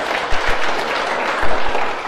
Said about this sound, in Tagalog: Palakpak ka na Jesus.